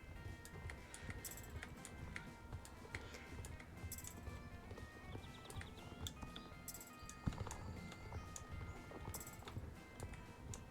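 Horse hooves in a Star Stable video game race clip-clop in a fast, steady gallop, with faint bird chirps and small clinks behind, continuous and moderately quiet with no talking.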